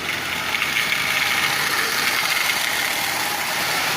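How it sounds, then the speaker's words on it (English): A Marx 898 tin toy locomotive runs steadily, pulling a string of tin litho cars, its noisy intermediate gears giving a constant close whirring grind with a faint mechanical rattle throughout. "other than the fact that it has noisy gears"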